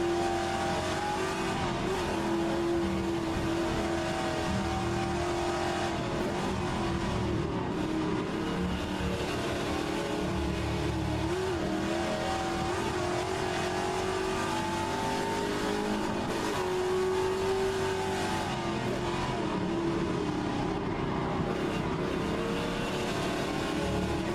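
A Trans-Am race car runs on track at Road Atlanta, its engine roaring continuously and loudly throughout, rising and falling in pitch through throttle changes and shifts.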